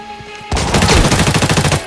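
Automatic gunfire in the shooter game Arena Breakout, a loud, close, rapid burst of shots that starts abruptly and rattles on without a break until the end.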